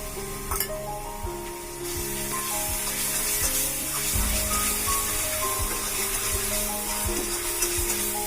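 Cumin seeds drop into hot oil for an Assamese snail dish, setting off a steady, loud sizzle and frying hiss that swells after a couple of seconds, with faint stirring clinks underneath.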